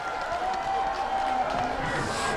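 A crowd claps steadily and warmly to welcome a city mayor onto a stage at an outdoor tea bowl festival, the applause dense and continuous with no voices standing out.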